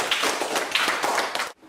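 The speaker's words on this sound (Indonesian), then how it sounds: "Tepuk tangan untuk Nisi." A classroom of students claps together for a classmate, a dense burst of quick, close hand claps lasting under two seconds, then stopping abruptly.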